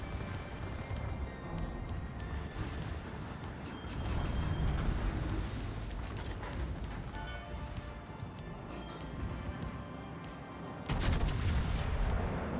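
Rapid naval gunfire from a warship's secondary batteries in World of Warships, a dense, continuous barrage of booming shots with heavier blasts near the start and again toward the end.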